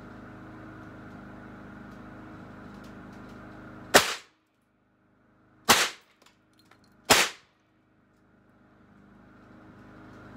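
A BW S45 pistol fires TPP 155gr hollow skirt bullets without a barrel extension, three sharp, loud gunshots spaced over several seconds against a low steady background hum, with no talking.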